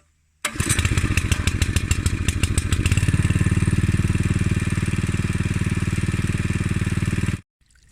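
A small water pump engine starts abruptly, chugs unevenly for a couple of seconds, then settles into a loud, steady running drone before cutting off.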